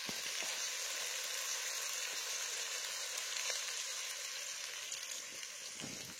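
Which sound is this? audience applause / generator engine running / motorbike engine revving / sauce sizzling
sauce sizzling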